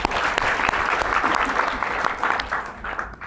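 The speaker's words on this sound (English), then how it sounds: "Give yourselves a round of applause for that." Audience in a classroom or workshop session breaks into applause, a steady burst of many hands clapping at close range that thins out toward the end.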